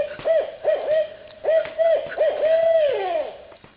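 A girl imitates a barred owl with her voice, giving a series of rhythmic hooting calls with rising and falling pitch that end in a long descending hoot, loud and close with no other sound.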